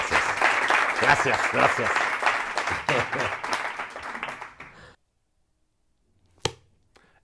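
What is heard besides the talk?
audience applause for Darío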